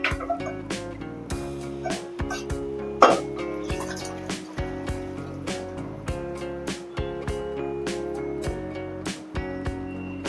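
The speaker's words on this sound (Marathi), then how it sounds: "या पाण्यासकटच आपण हे छोले यामध्ये ऍड केलेत." Boiled chickpeas with their cooking water go into cooked masala for dhaba-style chole, with wet plops, splashes and repeated clinks of a utensil against the pot in a close, uneven rhythm.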